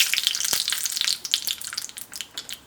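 Curry leaves and dried red chillies hit hot coconut oil in a pan, bursting into a loud, close, crackling sizzle with irregular pops and spits that gradually thin out.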